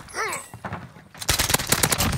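Video game gunfire, a rapid run of loud close shots in the second half after a brief voice and scattered quieter sounds at the start.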